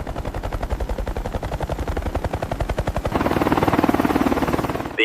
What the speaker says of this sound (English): Soon, additional helicopters arrived to recover the wreckage.